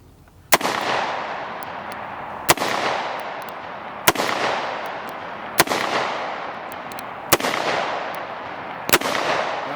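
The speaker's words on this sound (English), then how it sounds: "it fired all 6 rounds of the Winchester ammo" Six sharp gunshots from a Smith & Wesson Governor revolver fired double action with Winchester target ammunition, spaced evenly about every second and a half, each loud report ringing off before the next.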